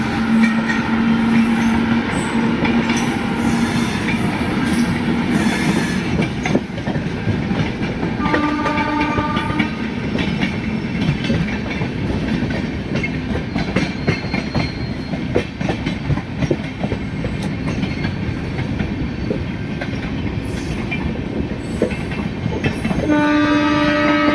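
Udhampur Express train running on rails alongside the Barauni Mail near Kanpur, with steady loud rumble and clickety-clack of wagons throughout and horn blasts sounding several times, no talking.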